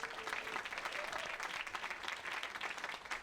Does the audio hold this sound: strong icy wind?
no